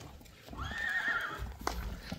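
A horse lets out one clear, rising and falling whinny at a farm with mares, with hoof clops and faint stable noise around it.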